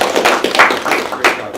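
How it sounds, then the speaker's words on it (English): Brief, scattered clapping from a small audience at a Harvard Golf banquet, a few uneven claps and taps, close and fairly loud. "We didn't get a round of applause for you."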